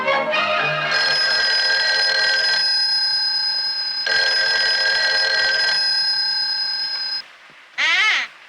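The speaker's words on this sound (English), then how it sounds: "That's no way to answer the phone, Susie." An old telephone bell ringing loud and close in two long sustained bursts with a short gap between them, followed by a brief electronic chirp.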